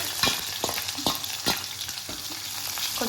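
Mustard seeds splutter in hot oil as the tempering for a fish curry, with sharp scattered pops over a steady soft sizzle and no talking.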